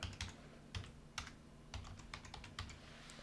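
Quick keystrokes on a computer keyboard while entering JavaScript code, a close, fairly quiet run of irregular clicks in small bursts with brief gaps between them.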